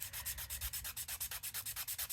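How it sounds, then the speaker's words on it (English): A small sander rasps rhythmically against the tip of a colored pencil to sharpen its point. Quick, even rubbing strokes repeat at close range with no voices. "I do want to get my sander out. And I want to sand off"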